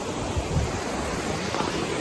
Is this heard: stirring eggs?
no